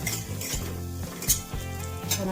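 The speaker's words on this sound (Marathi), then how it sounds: "तूप टाकू आणि आपण आता काजू भाजून घ्यायचं" Cashews roasting in ghee in a pan, a quiet steady sizzle with repeated clinks and scrapes of a spoon stirring against the metal, no talk.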